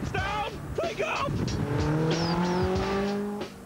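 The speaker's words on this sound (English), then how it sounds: "Up front is the same engine that sends the Lotus Elise down the road, but in this car it takes it from 0 to 60 in under 6 seconds" A small sports car with the Lotus Elise engine accelerates hard, its revving note climbing steadily through a gear, with tire noise and a brief shout over the engine.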